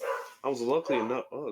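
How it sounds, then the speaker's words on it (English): A nearby dog gives three sharp, yipping barks in quick succession while someone speaks briefly during a live tournament commentary. "that's a dog"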